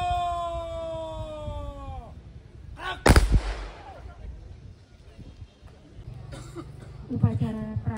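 A ceremonial rifle salvo fires at a military police cremation funeral, one sharp, loud blast cracking out mid-clip after drawn-out shouted parade commands, with crowd murmur and more calls afterward.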